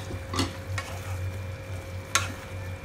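A spoon stirs fried paneer into simmering masala gravy in a pan, with a few distinct scraping strokes over a soft continuous bubbling sizzle and a sharper clink near the end.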